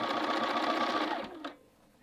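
A sewing machine stitches a quilted jacket hood, running steadily and close, then slowing and stopping near the end with a brief final burst before falling quiet.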